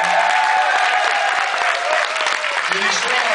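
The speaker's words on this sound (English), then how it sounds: "please give them very, very, very special applause" Audience at an awards dinner applauds warmly, a dense, continuous wash of many hands clapping at full volume throughout, with a voice audible beneath it.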